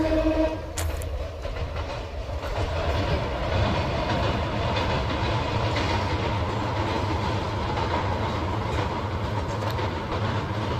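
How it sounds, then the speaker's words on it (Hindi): A train rolls across a railway bridge over the Gumti river, a steady loud rumble and clatter of wagons filling the whole stretch with no pause. "ये ट्रेन अभी इससे गुजरी है"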